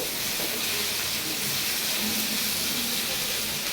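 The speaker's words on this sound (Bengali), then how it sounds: "আমি মিডিয়াম আছে রেখে কিন্তু এই আলু বেগুনটা ভাজতেছি" Potatoes and eggplant fry over medium heat in a pan for an egg curry, giving a steady, dense hiss of frying that holds evenly throughout with no talking.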